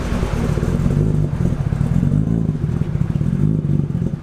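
A raw, rough 635 bhp 2JZ engine in a Nissan Silvia S15 idles and revs steadily up close, a loud throbbing rumble with clattering texture throughout.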